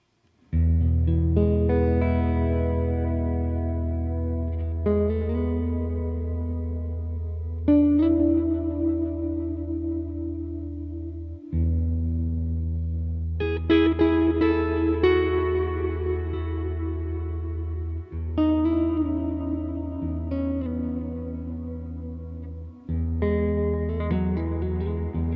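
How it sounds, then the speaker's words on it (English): Electric guitar played through a Wampler Ethereal pedal with delay and reverb set halfway, ringing sustained chords that swell and overlap in a long ambient wash, with a few brief gaps between phrases. "So add reverb as well. So reverb is now at halfway."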